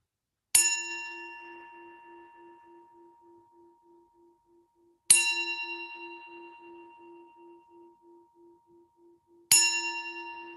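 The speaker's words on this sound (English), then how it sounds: "when you hear the sound of the bell" A meditation bell struck three times during a virtual sangha session, each strike a clear ringing ding with a long, pulsing sustain fading slowly into silence between strikes.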